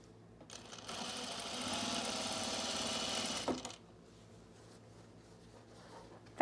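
A sewing machine stitches fabric for a pair of summer pants in one continuous run of close, even mechanical whirring lasting a few seconds, then drops to a quiet room hum.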